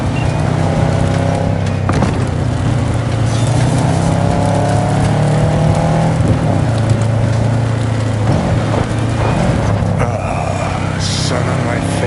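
A car drives along with a loud, steady engine drone and road rumble, close and continuous, while people talk over it.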